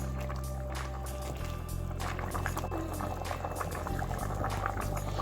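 Goat pepper soup simmering in a pot on a stove, a steady low rumbling bubble with soft popping and gurgling, continuous and close, no voices.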